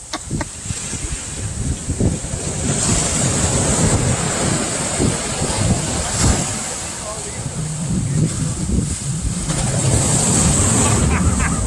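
Atlantic Ocean surf breaking on the shore, a continuous rushing wash with swelling surges and heavy wind buffeting across the microphone.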